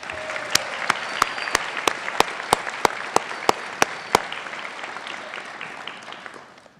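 A graduation audience applauds a student speaker at the eDCSD 2022 ceremony, with a dense bed of clapping broken by a regular series of sharp, loud isolated claps before it fades away toward the end.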